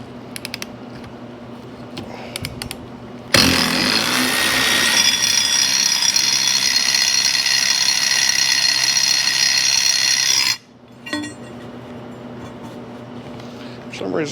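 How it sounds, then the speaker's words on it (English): Screws for a CJ5 seat are cleaned on a spinning wire wheel, which gives a loud, steady, harsh whirring grind for about seven seconds. Quieter workshop noise comes before it and after it. "We'll just clean these up on the wire wheel and use them"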